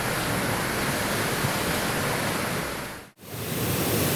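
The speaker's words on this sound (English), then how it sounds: "Welcome to Upper Lakshapana Waterfall." Upper Lakshapana Waterfall in Sri Lanka roars as a dense, constant rush of falling water, loud and close, with a short dip near the end and no voices.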